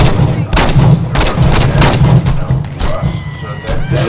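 Saints Row 2 gameplay carries repeated bursts of loud gunfire in uneven volleys, with a voice speaking over parts of it.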